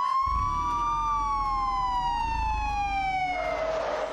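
Police car siren wailing close and loud, a sustained gliding tone sweeping downward over a low rumble, with a brief tonal shift near the end.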